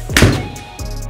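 A 25-year-old golf club strikes a ball with one sharp, close thunk, followed by a softer knock a moment later.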